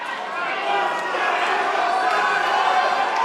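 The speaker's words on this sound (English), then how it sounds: "The crowd willing both fighters home in the final stance." Boxing arena crowd cheering both fighters in the final round of Joel Casey vs Tim Bell, a steady, dense roar with a ringside commentator talking over it.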